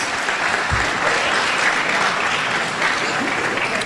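An audience breaks into applause for scholarship recipients at a career and technical education signing day, dense sustained clapping from a crowd filling the whole stretch, loud and close.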